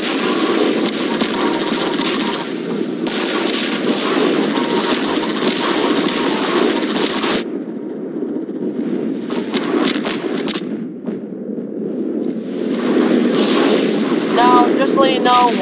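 Half-Life 2 gameplay: a roaring airboat engine drones loudly under repeated bursts of gunfire, with the engine cutting out briefly and returning amid choppy shots, and a voice talking over it.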